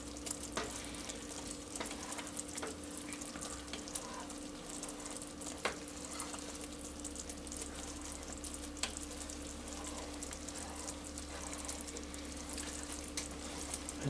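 Chocolate marshmallow fudge bubbles at medium heat in a pot as a spoon stirs through it, a steady close sizzling hiss with faint scraping and occasional soft clicks.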